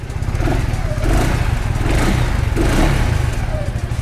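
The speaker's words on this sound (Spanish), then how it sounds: "un cuadra que suena bastante rico, mae. Súper calladito." A Segway quad bike engine idling close by, a steady low rumbling drone with mild revving swells and light mechanical clatter, running alone without talk.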